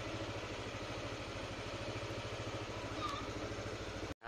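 A motorcycle engine idling on a morning warm-up, a steady low rhythmic putter close by and fairly quiet, running alone for a few seconds before a brief cut near the end.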